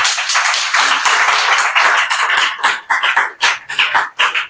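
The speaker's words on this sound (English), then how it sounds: "Applaudissez pour chacun de vous, s'il vous plaît." Staff at a twentieth-anniversary evening party for COWEC Bénin agents applaud together, a dense roar of many hands at first that thins into scattered, distinct claps toward the end, close and loud.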